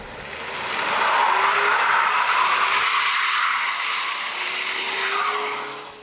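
Cadillac CT4 with rear-wheel drive and 237 horsepower drifting, a loud sustained tire squeal rising and holding with engine noise underneath, close and continuous before fading at the end.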